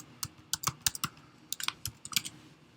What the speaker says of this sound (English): So let's just go ahead and type in the IP address.